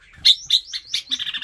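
Birds on a farm chirp in a quick run of bright, close tweets, several short calls in a row with no talking.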